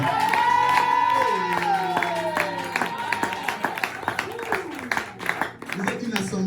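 A church congregation cheers, whoops and claps in acclaim for Jesus at a seminar service, a loud, dense crowd roar with scattered sharp claps, while a voice rises over it.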